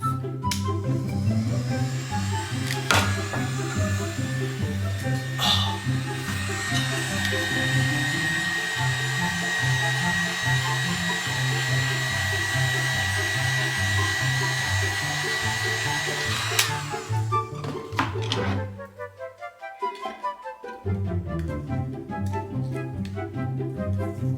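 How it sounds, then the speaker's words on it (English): A heat gun blows steadily to warm a label on a plastic container, a constant close whir that runs almost throughout, joined by a tonal hum for a stretch, before a brief dip and restart near the end. "You just take a heating gun, warm this up a little bit, and then it should peel right off."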